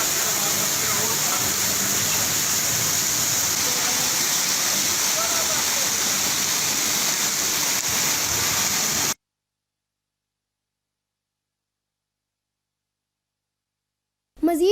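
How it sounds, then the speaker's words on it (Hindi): Heavy rain and rushing floodwater in a Karachi storm form a loud, continuous watery roar for about nine seconds before cutting abruptly to silence, with a brief burst returning at the very end. "ज़्यादा बारिश हो गया, ज़्यादा पानी आ गया"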